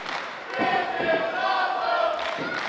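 A wrestling crowd cheers loudly through the whole stretch at an independent main event, a dense roar of voices with shouts rising and swelling, no talk over it.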